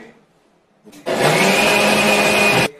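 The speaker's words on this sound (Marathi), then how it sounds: "आता आपण बारीक करून घेऊ" A mixer grinder whirs loudly and steadily for about two seconds as it blends mango pulp aamras with cardamom sugar, starting abruptly after a quiet moment and cutting off sharply.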